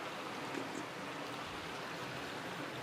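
Water running and splashing during a wet shave, a steady, even rush of fairly faint noise that carries on unbroken with no voices.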